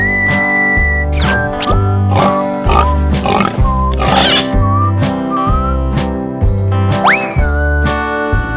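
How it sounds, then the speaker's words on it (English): A cartoonish pig oinks among playful animal noises and sliding whistle-like tones over a bouncy, repeating musical backing, loud and close. "Pig."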